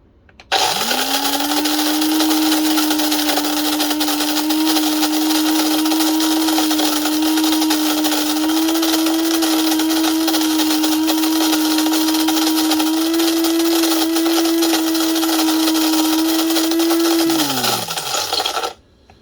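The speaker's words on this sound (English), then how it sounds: "your beans ground to coarse French press, like that" An electric grinder whirs loudly and steadily for about seventeen seconds while grinding coffee beans coarse for a French press, starting abruptly and winding down at the end.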